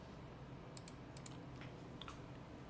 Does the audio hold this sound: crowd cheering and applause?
no